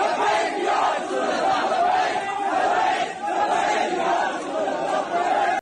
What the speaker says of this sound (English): crowds of Muslims then gather in Pakistan and shout slogans